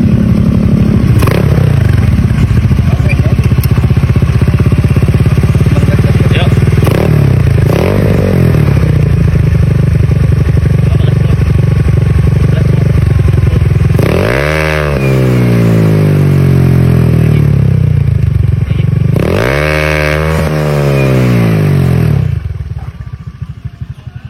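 A loud modified carbureted Honda Scoopy scooter with an aggressive CMS exhaust idles roughly, then revs hard twice in sharp rising bursts before settling back, very close.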